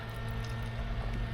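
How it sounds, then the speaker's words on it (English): An electric fan runs steadily in a room at home, a continuous low hum and soft broadband whoosh holding level with no pauses or speech. "you can hear my fan in the background"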